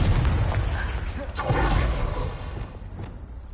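A fire spell bursting in Hogwarts Legacy, a booming explosion with a whooshing blast that swells midway and then fades, heard over battle noise.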